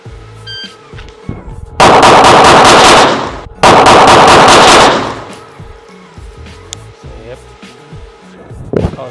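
Two loud, sustained bursts of shots from a 1911 DS Prodigy AOS 9mm pistol, each lasting about a second and a half, with quiet range noise between and after them.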